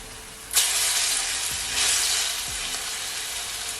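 Plantain slices sizzle in hot oil in a pan over medium heat, a steady broadband hiss that jumps louder as food goes in, with a couple of soft low knocks and no talking.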